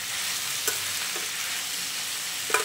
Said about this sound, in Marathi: याला आपण 5-1 मिनिटं असं छान परतून घेऊया